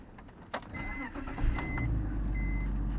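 A 2001 BMW 325i is started: a few faint clicks and a brief cranking whir, then the engine catches and settles into a steady low idle rumble up close.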